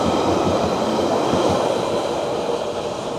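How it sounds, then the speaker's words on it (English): A London Underground tube train rumbles loudly and steadily close by at a station, a continuous roar of wheels and motors with no voices. "as much as I would love to ride on this beautiful tube train"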